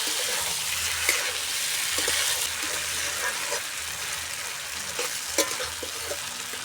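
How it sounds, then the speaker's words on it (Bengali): Meat and fried potatoes sizzle while being sautéed in a pan, a continuous close frying hiss with occasional stirring scrapes and no voices. "এবার ভালো করে আলু আর মাংস কষিয়ে নেব।"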